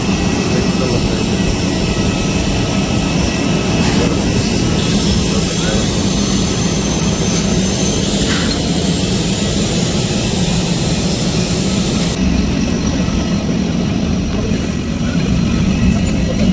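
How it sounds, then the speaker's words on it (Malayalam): A small airplane's engine roars at an airport, a steady loud, broadband drone that stays constant throughout, with some speech mixed in. "ഇപ്പം വന്ന ഫ്ലൈറ്റ് വലിയ നീളം കൂടിയ ഫ്ലൈറ്റ്, ചെറിയ ടൈപ്പ് ഫ്ലൈറ്റാണ്"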